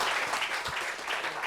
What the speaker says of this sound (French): Applaudissements pour cette femme-là, s'il vous plaît.